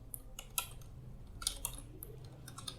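Keystrokes on a computer keyboard while entering a command-line instruction, a handful of light, irregular clicks at close range over quiet background noise.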